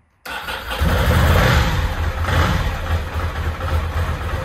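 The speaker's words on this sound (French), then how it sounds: "Je mets un tout petit coup de gaz." Ducati motorcycle engine cranks and catches, then runs at a steady idle with a light blip of throttle, loud and close, with no voices.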